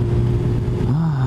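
A close, loud Yamaha XJR 1300 motorcycle engine idling and rumbling steadily, with a slight rise in pitch near the end.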